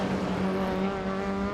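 Classic saloon race car, number 88, revving hard into Scotsman corner at Knockhill circuit, a loud steady engine drone with strong harmonic tones, close and continuous.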